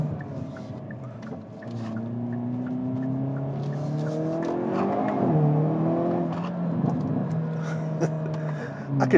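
Hyundai Kona N engine revving while driving, a steady raspy drone rising and falling in pitch with throttle, loud and close throughout with a brief surge near the middle.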